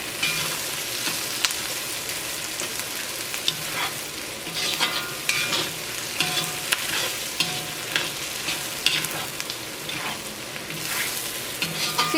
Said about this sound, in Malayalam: ചില്ലി പേസ്റ്റ് ചേർത്ത് കഴിഞ്ഞിട്ടും ഒരു മിനിറ്റ് നന്നായിട്ടൊന്ന് ഇളക്കി കൊടുക്കാം